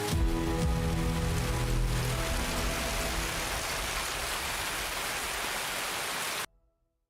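Steady, dense rain hisses evenly across the scene in the game Escape from Tarkov, loud and unbroken for over six seconds before cutting off abruptly, with no voices.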